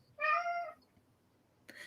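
Cat gives one clear, close meow lasting about half a second, followed by a brief faint rustle, in a quiet room.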